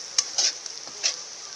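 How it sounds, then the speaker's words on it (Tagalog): Kandinga is stirred as it fries in a pan, with a close scraping stir and a soft sizzle. Three or four brief strokes come over a constant high hiss of hot oil. "Continuous lang po ang paghalo natin."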